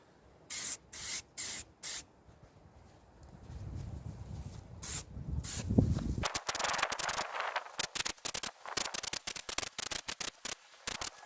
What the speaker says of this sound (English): For the second coat, spray a medium coat of lacquer